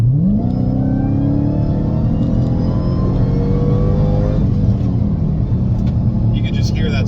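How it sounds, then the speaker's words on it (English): A supercharged Dodge Challenger SRT Hellcat Redeye Widebody engine revs up and holds a deep, throaty rumble with a rising supercharger whine layered on top, loud and close. "You can just hear that supercharger."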